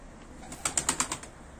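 A brief burst of pigeon wing flaps, five or six quick beats in a row, close and crisp against a quiet background.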